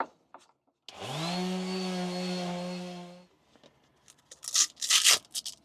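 A power sander with a worn sanding pad whines loudly and steadily for about two seconds on the rails of a Bavaria 36 sailboat, then cuts off, followed by scattered scraping and handling noises.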